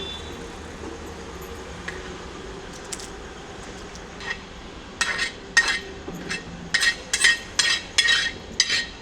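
Small and large metal cooking pots being handled in a home kitchen, giving a run of sharp clanks and clinks that start sparse and then come quickly and loudly, with no talk.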